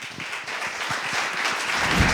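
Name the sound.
audience applause for panelists coming on stage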